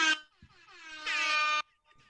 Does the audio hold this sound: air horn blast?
yes